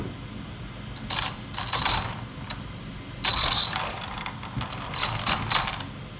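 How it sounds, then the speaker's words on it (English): Fans and a steering servo on an Arma Big Rock 3S BLX RC truck whir and click in short mechanical bursts over a faint steady hum, fairly close, and no talk. "as soon as I turn it on, our fans are kicking on. Steering servo is working."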